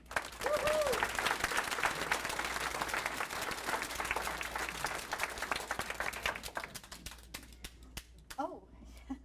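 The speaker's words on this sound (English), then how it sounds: "So can we have a round of applause for all our leadership?" A room of people applauds volunteer leadership at a Kirkland city volunteer appreciation celebration, with full clapping and a cheer early on that thins to scattered claps and voices toward the end.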